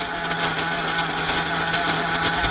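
A modified 34SS Reed OBR nitro engine runs continuously at high revs, a loud, steady buzzing whine with no pauses or changes in pitch.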